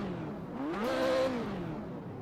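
Car engine in a driving video game heard from the cockpit view, a single rev that climbs in pitch, holds briefly and falls back, fairly faint and alone.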